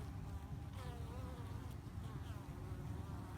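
Worker bees buzzing close by as they fly in carrying pollen, a steady dense hum of many wings that holds unbroken throughout with no voices.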